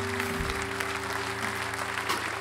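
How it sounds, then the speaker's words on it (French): Audience applause at a concert at La Grande Ourse in Saint-Agathon, a steady moderate wash of clapping over a low sustained hum from the stage. "On applaudit très fort, soutenez son travail"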